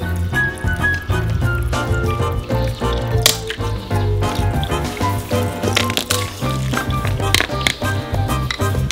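Beer glugs and splashes as it is poured from a can into a baking tray, a wet pouring sound with small taps, set against steady background music.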